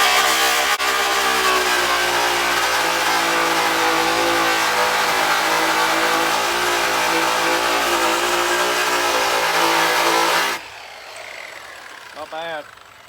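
A Zephyr buffing wheel loaded with polishing bar spinning and polishing, a loud, steady motor whine with a constant tone for about ten seconds before it cuts off and quiet remains, with a voice speaking over it.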